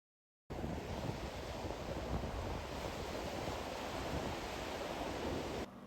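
Surf on Daytona Beach, Florida, a steady broadband wash of waves that starts abruptly and holds constant and fairly loud throughout, with no voices.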